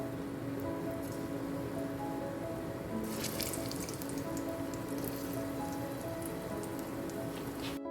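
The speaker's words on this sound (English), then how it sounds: "once the oil is hot, then we're going to just put them in and fry until golden brown on both sides" Plantains fry in hot oil as a steady, even crackle and hiss close by. Brighter spattering bursts in from about three seconds, and no one speaks.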